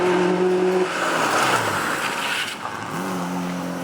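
Rally cars on a gravel-and-tarmac stage of the 2019 Mull Rally, leg 3 stage 14, loud engine note dropping sharply as a car brakes hard, then a second engine climbing again as it pulls away, no talking.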